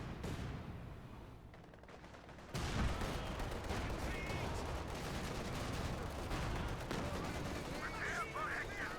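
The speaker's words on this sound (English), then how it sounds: "More and more white phosphorus coming on out." A white phosphorus artillery barrage in Company of Heroes 2 sounds as dense, faint, distant crackling fire and muffled blasts, swelling after a brief quiet moment and rolling on steadily.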